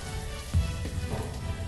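Steady rainfall in the city-building game Banished, a dense, even patter of drops with a slight swell partway through, continuous and unaccompanied by talk.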